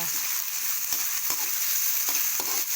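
Chopped tomato and ginger fry together in a pan while cooking squid adobo, giving a steady, close sizzle with a few light stirring scrapes throughout.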